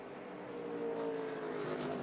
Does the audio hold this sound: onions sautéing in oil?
no